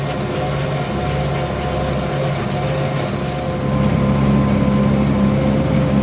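A tractor engine drones steadily up close while baling small square hay bales from windrows, a continuous heavy low hum with machinery whine that swells slightly louder partway through.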